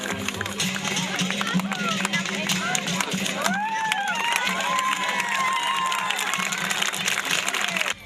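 A crowd applauding and cheering at a fountain opening ceremony in Vardenik, continuous dense clapping with shouts and chatter, while a voice speaks over it.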